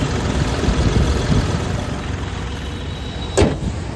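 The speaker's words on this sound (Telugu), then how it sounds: "ఇంజన్ సౌండ్ కూడా చాలా స్మూత్గా ఉంది." A 2016 Hyundai Grand i10 Magna diesel idles steadily, its low, even engine rumble close and constant, with one brief sharp click or knock near the end and no talking.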